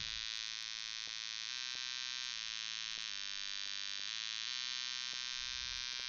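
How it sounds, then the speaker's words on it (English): An ESP32 project device plays a steady electronic sine-wave alarm tone with a faint buzzy edge and small periodic clicks, continuous and alone in a quiet room. "it's about to hit 2:55, and it will play a sine wave as our alarm"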